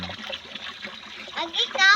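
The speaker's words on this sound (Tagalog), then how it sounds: "Enjoy na siya sa paglangoy-langoy na kunting tubig lang." Light splashing and dribbling water in a shallow tub, with a voice babbling over it and a brighter splash near the end.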